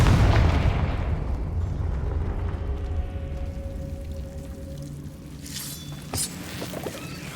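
A Confringo fire spell blast in Hogwarts Legacy opens with a heavy, booming explosion that rumbles and slowly fades, with a brief sharp crack near the end.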